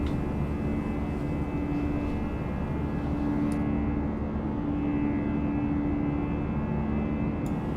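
An easyJet Fenix Airbus A319 takes off at full power in Microsoft Flight Simulator 2024, its engines giving a loud, steady roar with a constant whine running unbroken throughout.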